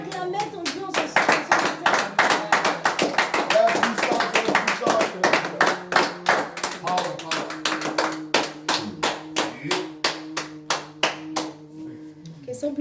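Church congregation clapping in unison during a French evening worship service in Paris, a dense rhythmic burst of many hands that settles into a steady beat of loud, regular claps alongside sustained music.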